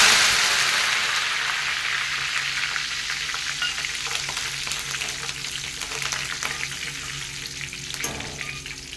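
Steady, loud sizzling of curry leaves and asafoetida in hot oil off the heat, a continuous crackling hiss that fades slightly as it goes on, with no voices.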